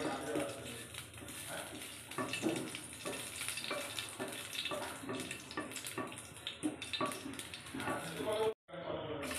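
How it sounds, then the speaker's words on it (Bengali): Dried red chillies frying in mustard oil and being stirred, with crackling and scraping bursts under a voice, cut off abruptly near the end. "তারপর তেলেতে শুকনো লঙ্কাগুলো দিয়ে দেবো। লঙ্কাটা একটু নেড়ে ছেড়ে"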